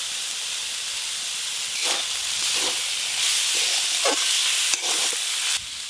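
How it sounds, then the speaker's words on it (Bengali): Red amaranth greens fry with poppy seeds in mustard oil, giving a steady close hiss and sizzle. Several scraping stirs of the spatula break through at intervals, and there is no talk. "পোস্ত দিয়ে লাল শাক ভাজা হয়ে গেলে এবার ঢেলে নেব"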